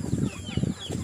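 Chickens and chicks cluck close by in a farmyard, a few short bursts of clucking with a faint flutter of wings in between.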